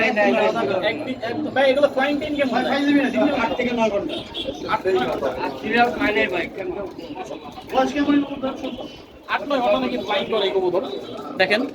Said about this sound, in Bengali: রামপুরি কবুতর